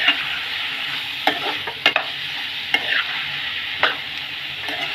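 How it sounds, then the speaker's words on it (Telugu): Tomatoes frying with softened onions for a drumstick-tomato curry give a steady close sizzle, punctuated by a few sharp scrapes and taps of a spatula against the pan. "ఉల్లిపాయలు మగ్గిపోయినాయి కానీ ఇప్పుడు టమాటాలు వేసేసాను"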